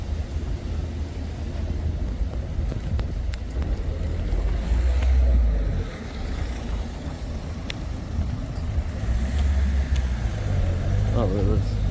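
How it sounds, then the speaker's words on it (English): A parked car sits with its engine left running, a steady low rumble that continues throughout, with wind buffeting and people talking over it. "did you see who's left that car there running?"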